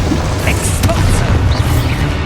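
An Expulso explosion spell goes off in the Harry Potter Hogwarts video game: a dull boom buried in a dense, steady wash of loud game noise, with no clear separate blast standing out.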